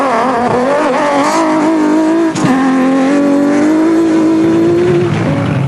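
A Nissan Hardbody Super Truck races off-road, its engine roaring loud and close as the revs climb, dip briefly, then hold at a high, sustained pitch.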